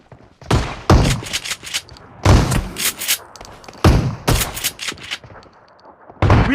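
Loud, close shotgun blasts from PUBG Mobile fire in a rapid run of sharp bursts, with brief pauses between volleys and a final shot at the end.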